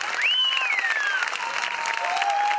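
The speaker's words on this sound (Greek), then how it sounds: "Μεγάλο χειροκρότημα." Applause from parents and guests at an end-of-school-year ceremony, continuous clapping with a whistling or sliding tone gliding above it.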